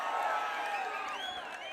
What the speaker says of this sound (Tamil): எப்படி மக்கள் ஆரவாரம்